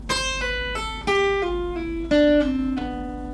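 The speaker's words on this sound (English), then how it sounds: "You combine it all together and you get a legato run that sounds like this." Guitar legato run: a descending sequence of cleanly separated notes, each struck then sustained, with a bright tone and clear stepwise pitch drops across about three seconds, played alone.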